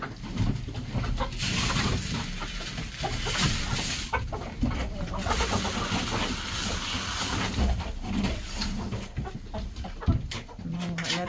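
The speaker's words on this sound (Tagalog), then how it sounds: "yung alaga namin na manok" Backyard egg-laying hens cluck and chatter during feeding time, with scattered calls over a noisy, rustling background.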